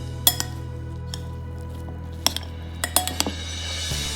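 Beef sisig stirred with mayonnaise in a pan: sparse metallic clinks and scrapes of a utensil against the pan, a few sharp taps spread over a low hum, close and moderately loud with no voices.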